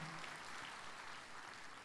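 An audience claps for the mothers and women present at a live comedy show, a quiet, dense and steady ripple of applause heard from a distance without voices.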